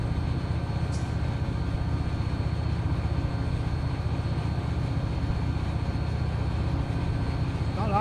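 A diesel locomotive engine at full throttle in Run 8 train simulator, pulling a local freight: a steady, loud, continuous low rumble with a faint tonal whine near the end.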